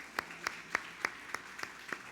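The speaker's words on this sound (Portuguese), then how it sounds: "Acho que você podia aplaudir o Senhor" A church congregation applauding during a service, heard as a faint, steady run of about seven evenly spaced claps, quiet and somewhat distant.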